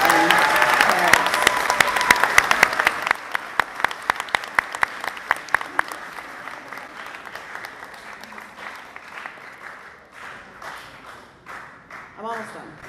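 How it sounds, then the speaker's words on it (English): An audience claps at a middle school eighth grade awards ceremony, a loud, dense burst that gradually thins into scattered claps and fades, with voices surfacing near the end. "how about a round of applause for your families, friends, and parents?"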